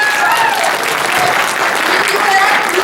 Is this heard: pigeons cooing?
no